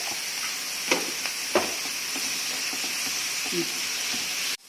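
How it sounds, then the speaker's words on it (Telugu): Onions, green chillies and curry leaves frying with salt in a pan for mushroom masala curry, a close, steady sizzling hiss with a few soft stirring clinks, ending in an abrupt cut. "ఇది ఫ్రై అవుతున్నాయి కదా"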